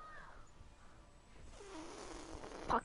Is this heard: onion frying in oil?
no